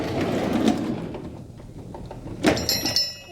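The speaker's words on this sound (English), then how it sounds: "And I'll do one more drawer, the mill tooling drawer." Heavy mill tooling drawer in a small workshop sliding open, a low rolling rumble ending in a sharp metallic clack, with tools rattling and ringing briefly afterward.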